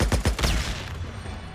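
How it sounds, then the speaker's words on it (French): Gunfire in the video game Days Gone arrives as a quick burst of several close, loud shots in the first half-second. A fading rumble follows, with no voices. "Il lui a tiré dessus!"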